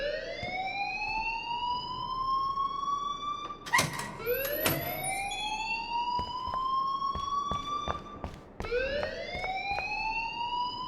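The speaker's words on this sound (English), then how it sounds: "please turn off that alarm since that's your job" A rising, wailing alarm siren in the video game Life Is Strange, repeating in long sweeps of about four seconds each, loud and steady with a few sharp clicks between sweeps.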